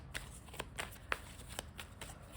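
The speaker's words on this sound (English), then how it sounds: "we're just going to shuffle a bunch of times here" A deck of tarot cards is shuffled by hand, giving a series of crisp, papery riffles and soft slaps at irregular intervals, close up and moderately quiet.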